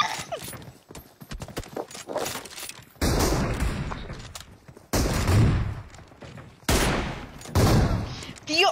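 Video game gunfire comes in loud, dense bursts of rapid shots, separated by brief quieter stretches, with a faint voice occasionally underneath.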